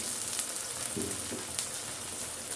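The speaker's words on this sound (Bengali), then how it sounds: "এবার নাড়াচাড়া করে দেব।" Ginger and garlic paste frying in oil for beef biryani, a steady soft sizzle throughout with a couple of faint stirring scrapes near the middle, close but quiet.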